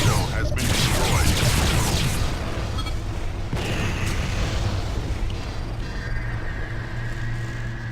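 Deep, rumbling blast as the NTC ship is destroyed in the space combat game Freespace 2, a loud sustained roar with crackling debris that slowly fades under lingering engine hum.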